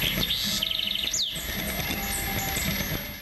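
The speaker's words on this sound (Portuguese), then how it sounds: "O canto dos pássaros aumenta a sensação de paz por aqui." Birds sing at the Santuário do Caraça, with a quick run of repeated high chirps and a sweeping whistle, then softer calls over a faint outdoor background.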